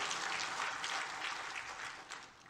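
Church congregation clapping in thanks during a worship service, a steady, fairly quiet wash of many hands that runs throughout and thins slightly toward the end.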